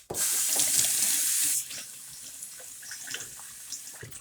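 An aquarium filter sponge is washed in water: a loud gush of running water pours for a moment, then quieter splashing and squeezing sounds follow nearby.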